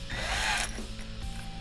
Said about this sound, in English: drill just a little bit bigger hole in it.